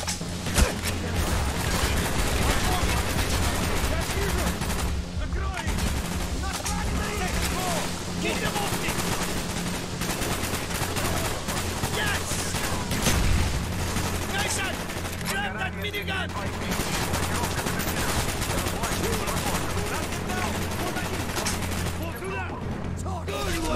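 Intense Call of Duty Black Ops firefight with continuous automatic gunfire, overlapping shots and occasional booms, loud and sustained throughout while shouted voices break in over the battle.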